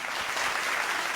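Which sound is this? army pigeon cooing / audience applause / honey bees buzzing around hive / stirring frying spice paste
audience applause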